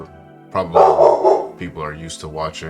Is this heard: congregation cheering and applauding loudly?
no